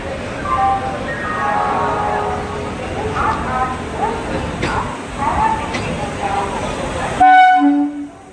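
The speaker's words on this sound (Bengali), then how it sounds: "বন্দে ভারত সুপারফাস্ট এক্সপ্রেস হাওড়া প্ল্যাটফর্মে ঢুকে যাচ্ছে" A Vande Bharat Express train rolls into a Howrah station platform with steady rumbling and clatter, then a loud, sustained horn blares near the end, with voices murmuring underneath.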